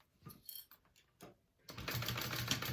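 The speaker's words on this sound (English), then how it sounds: "So I am stitching through all of my layers pretty much." A sewing machine stitches through the layered fabric of a tote bag, first in short stop-start bursts, then in a louder, steady run of rapid stitching near the end.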